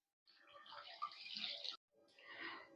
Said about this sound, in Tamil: 2 டம்ளர் தண்ணி சேர்த்துக்கோங்க